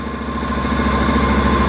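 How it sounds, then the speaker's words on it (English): A Honda NC750X motorcycle idles in a garage, steady mid-low engine hum with an even pulsing rhythm, close and continuous with no talk. "So let me start the engine."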